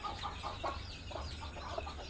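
Hens clucking softly at close range in short repeated bursts, with faint peeping from chicks and a low steady background hum.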